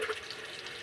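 Hot water running from an RV faucet turned all the way to hot, a steady close hiss of flowing water over the whole short stretch with no voices.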